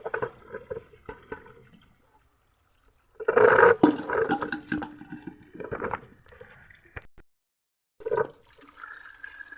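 Water splashes and gushes in short bursts with pauses between as it is poured by hand onto plants in a rooftop garden, close by, a louder pour in the middle and another brief splash near the end.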